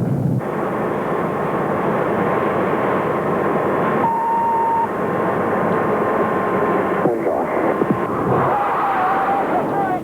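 An Anglo-French Jaguar jet flies past with a loud, continuous engine roar and rushing air noise, holding steady across the whole stretch with a thin whining tone running through it.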